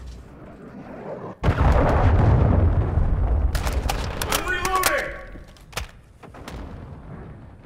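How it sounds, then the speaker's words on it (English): A heavy cruise missile blast in Call of Duty: Modern Warfare 2, a sudden loud boom followed by a long rumbling roar, then scattered cracks and debris, with a voice speaking around it. "Friendly cruise missile deployed."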